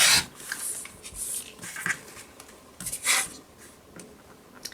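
A blade scrapes and rasps through quilting fabric along pre-drawn lines for a basket quilt block, in short close strokes with brief pauses between cuts.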